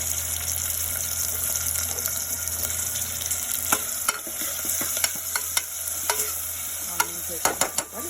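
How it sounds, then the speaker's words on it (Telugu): Chopped onions fry in a pan for a Telugu chamagadda pulusu, giving a steady hiss and sizzle under repeated scraping and stirring taps from a spoon, close and continuous, with no talking. "ఆనియన్స్ వేసుకొని కలుపుకోవాలి"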